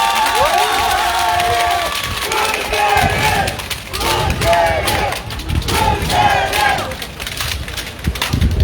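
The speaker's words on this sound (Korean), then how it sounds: "큰 박수 부탁드리겠습니다" A crowd at an outdoor campaign rally at a Jeju five-day market cheers and shouts loudly and continuously, with scattered clapping mixed into the roar of voices.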